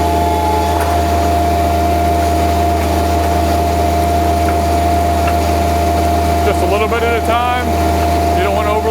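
A trencher's engine drones steadily and loudly throughout, revving with a chain digging into the ground while a water line is dug, with a continuous low mechanical hum and some faint squealing toward the end.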